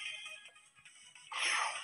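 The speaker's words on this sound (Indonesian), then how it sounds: "Aduh, notif ganggu aja" A short electronic alert tone from a phone notification rings out at moderate volume over quiet Digimon ReArise gacha game sounds, with no talking.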